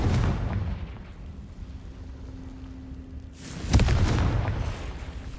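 Confringo blasting-spell explosions in Hogwarts Legacy, a heavy boom at the start and another sharp blast near the end, each trailing into rumbling debris, with no talk.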